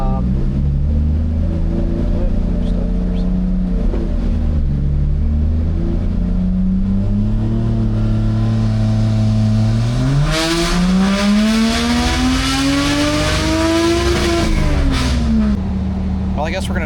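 Toyota JZX90 with a turbo engine on a dyno, a loud steady drone that rises in a long rev toward the end, peaks, then drops back, heard close and continuous.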